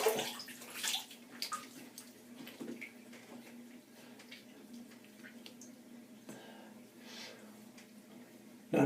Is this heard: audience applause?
no